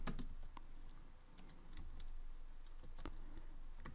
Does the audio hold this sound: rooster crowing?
no